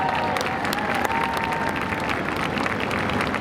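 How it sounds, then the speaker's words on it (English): An outdoor audience applauds steadily at a park opening ceremony at Paterson Falls Overlook, a dense, even wash of clapping with a few cheers, continuous throughout and without talking. "Shower them with applause"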